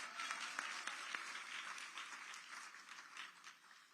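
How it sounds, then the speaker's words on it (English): Faint audience applause at a speaking event, a soft continuous patter of clapping that slowly fades toward the end. "you can clap for that"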